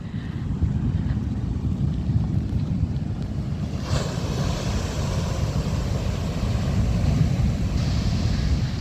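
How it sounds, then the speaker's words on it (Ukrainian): The Atlantic Ocean roars off the coast of Tenerife near Puerto de la Cruz, a deep continuous rumble of surf mixed with gusty wind buffeting the microphone, steady and loud throughout with no voices. "І Послухайте цей океан, він реально гуде"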